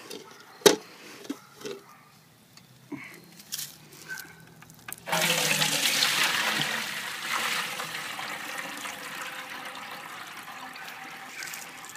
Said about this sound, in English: here we've got our pot of water, so we're just going to pick it up and dump it over the screen